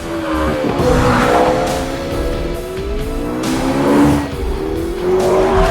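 A McLaren P1 races in Forza Motorsport 5, its engine loud and revving through long, wavering tire squeals as it corners and accelerates, close and without speech.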